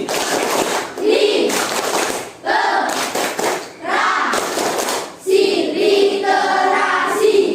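Schoolchildren repeat the 'tepuk literasi' clap chant together in a classroom, with patterned group claps and thuds between chanted voices, loud and steady throughout.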